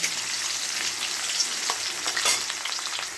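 Sliced bitter gourd sizzles in hot oil, a steady bright crackle with occasional spatters and utensil scrapes, close and continuous with no talking.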